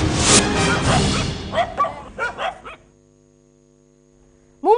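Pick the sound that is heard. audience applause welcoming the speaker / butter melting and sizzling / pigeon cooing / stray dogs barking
stray dogs barking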